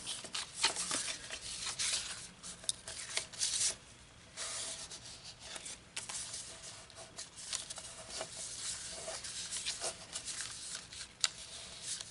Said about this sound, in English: Burnish it in.